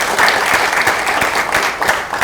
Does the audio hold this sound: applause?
yes